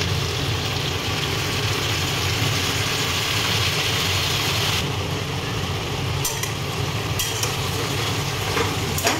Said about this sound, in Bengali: এবার আমি আগের থেকে বেটে রাখা সরষে পোস্ত দিয়ে দিচ্ছি।